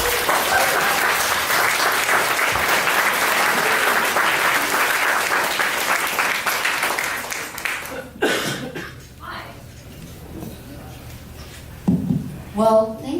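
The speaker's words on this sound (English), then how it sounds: "Please, everyone, let's give a warm welcome for Aja" An audience applauds warmly for several seconds, the clapping fading into scattered coughs and a quiet room before a voice begins.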